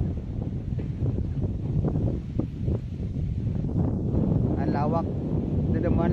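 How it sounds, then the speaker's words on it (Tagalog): Strong wind buffeting the microphone in a steady, loud rumble over a vegetable garden, with a voice speaking underneath. "Ang lakas ng hangin oh."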